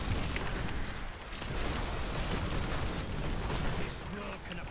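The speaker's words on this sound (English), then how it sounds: "Just a few too many explosions to be standing in happily." Dense, continuous rumbling blasts from Diablo 3 combat with a hardcore Necromancer, a thick wall of overlapping explosions and bursts that never lets up.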